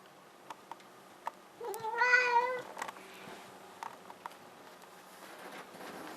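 A cat meows once, a clear mid-length call close by, in a quiet room with small knocks and clicks around it; nobody talks.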